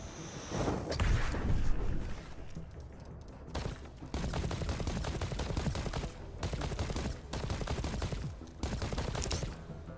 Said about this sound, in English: The gun shoots damaging rubber bullets.